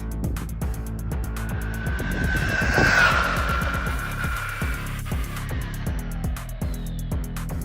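A pink DeeRC 9207E RC truck with a 120A Ovonic ESC and a 3650 5400kv brushless motor makes a loud, steady electric whine that swells to a sharp peak midway, with gritty tire scrub as it passes.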